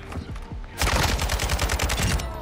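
An RPK light machine gun fires on the Embassy map of an online first-person shooter game: after a brief lead-in, loud, close, rapid automatic fire with a steady rhythm of sharp repeated shots.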